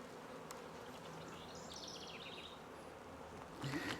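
Honeybees hum steadily around an opened hive with lots of empty comb, a continuous close insect drone that swells slightly louder near the end.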